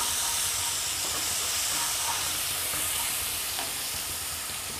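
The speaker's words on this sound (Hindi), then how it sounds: "ये वाले मसाले ये डाल देंगे यहाँ पे, इनको भी भून लेंगे" Dry ground spices frying in a pan over a low gas flame while aloo palak is cooked, giving a steady, close, continuous sizzle and hiss with faint stirring and no talk.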